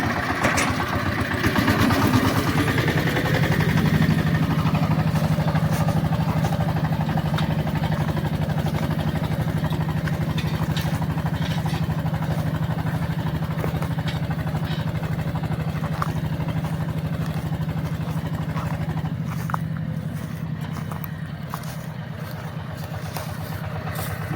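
A tractor engine drones steadily under heavy load while ploughing with a Wirax 2x25 plough, a constant low rumble with a mechanical whine, continuous and close throughout.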